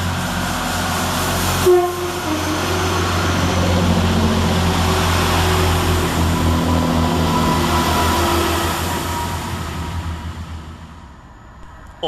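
A Great Western Railway diesel passenger train, unit 166208, rumbles steadily past Lawrence Hill station at close range, engine drone filling the whole clip before easing off toward the end; a brief horn-like tone near the start.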